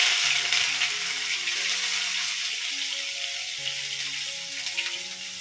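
Shallots sizzle in hot oil after mustard seeds have spluttered, a steady close hissing fry with faint tonal background hum for Kerala ulli theeyal.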